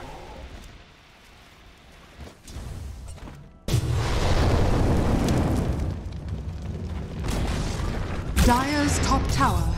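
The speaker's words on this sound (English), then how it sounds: "Dire's top tower has fallen." A tower in Dota 2 comes down with a sudden loud, deep boom, followed by a sustained, crumbling rumble and scattered bursts of game effects, all close and full after a quieter stretch of background game sound.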